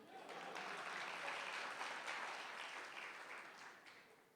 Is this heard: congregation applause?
yes